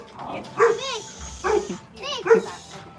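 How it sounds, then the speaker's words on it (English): Dogs snarl and bark in short, repeated bursts during a scuffle, three close yelping outbursts separated by brief pauses, with someone talking over them. "Dog fight, y'all."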